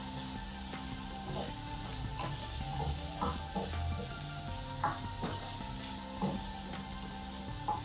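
Assorted peppers fry in a pan with cooked garlic for fried rice, a continuous loud sizzle broken by repeated scraping stir strokes, with no voices.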